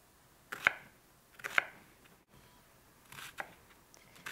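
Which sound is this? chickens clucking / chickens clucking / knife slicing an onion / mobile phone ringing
knife slicing an onion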